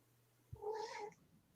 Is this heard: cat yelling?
yes